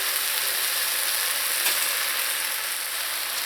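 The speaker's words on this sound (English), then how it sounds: "now we're going to go in with that spinach or Chorai Bhagi" Spinach leaves hitting hot oil in a frying pan give a steady, loud broadband sizzle that holds evenly throughout, close up with no talking.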